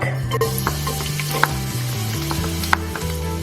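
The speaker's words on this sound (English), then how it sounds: "to the same oil, I'm going to add my garlic" Garlic frying in hot oil in a pan, with a steady close sizzle, a low hum underneath and a couple of sharp clicks from a utensil against the pan, and no one talking.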